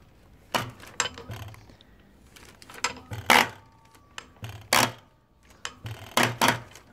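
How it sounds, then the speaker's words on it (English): A diesel injector with a new nozzle on a test bench pump for a Lister CD engine gives sharp, irregular clicks and spraying bursts, with the loudest strong bursts recurring about every second or so, close and clear. "The injector now is on the test bench pump."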